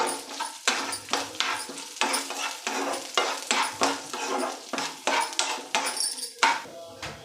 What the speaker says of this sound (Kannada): ಒಂದು ಚಕ್ಕೆ, ಜೀರಿಗೆ, ಮೆಂತ್ಯ ಎಲ್ಲವನ್ನು ಸೇರಿಸ್ಕೊಳ್ತಾ ಇದ್ದೀನಿ, ಹುರ್ಕೊಳ್ತಾ ಇದ್ದೀನಿ